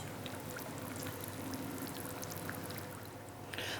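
Distilled water poured onto ceramic glaze powder, a steady soft pouring stream running continuously, fairly quiet and close, with no talk over it.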